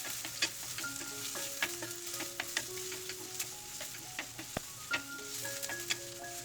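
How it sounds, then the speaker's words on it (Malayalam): Chopped onions sizzling in hot oil for a Kerala fish curry, with a spoon stirring through them in steady scrapes over a constant low frying hiss, fairly quiet and with no voices. "അരിഞ്ഞു വെച്ചിരിക്കുന്ന ഉള്ളി അതിലേക്ക് ഇട്ട് കൊടുത്ത് നന്നായി ഇളക്കുക"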